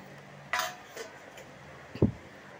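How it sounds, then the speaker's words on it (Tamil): A metal lid clinks onto a cooking pot of Vattalappam, two or three light knocks ending in one firmer clunk, close and with no voices. "இப்போ வந்து திரும்பவும் மூடி போட்டு வேக வச்சிடலாம்"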